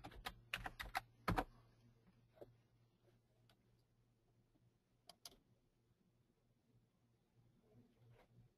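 Bursts of typing on a computer keyboard, a quick cluster of clacks early on then a few scattered key taps, close and fairly quiet over a low steady hum.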